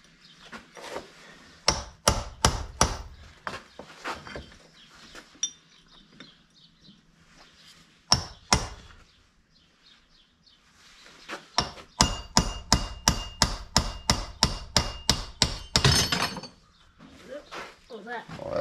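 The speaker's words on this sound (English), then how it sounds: "and hammer down, and then that'll come out of there." A hammer strikes a chisel to drive out a wheel bearing on a feeder wagon, giving sharp metallic blows, first in scattered pairs, then in a fast run of about a dozen evenly spaced hits, with quieter gaps between.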